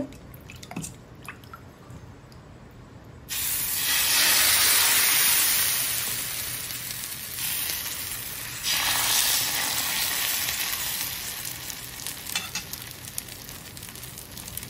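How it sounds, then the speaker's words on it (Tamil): Rava dosa batter poured onto a hot pan erupts into a loud, bright sizzle that surges twice and then settles into a steady hiss, heard up close with no voices. "இப்போ வந்து நம்ம தான் தோசை ஊற்றலாம்"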